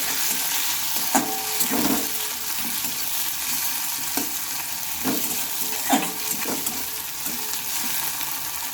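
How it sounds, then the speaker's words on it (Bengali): Chopped tomato and ground spice paste fry in a pan with a steady sizzle while a spoon stirs, scraping and clacking at intervals, close and continuous with no talking. "তার আগে টমেটো কুচি নেড়ে ছেড়ে নেবো"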